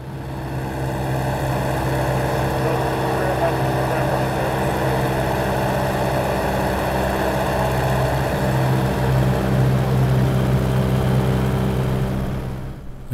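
A Sikorsky S-39 propeller airplane in flight on a trip to South Florida, heard from inside as a loud, steady engine and propeller drone that holds constant throughout with a strong low hum.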